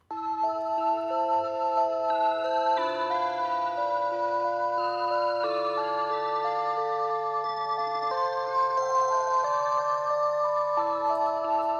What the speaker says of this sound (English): I came up with this chord progression in the Callisto preset in the Europa synth